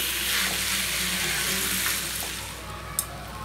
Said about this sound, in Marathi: लसूण चांगली फ्राय झाली पाहिजे, टोमॅटो घालायचं त्याच्यामध्ये।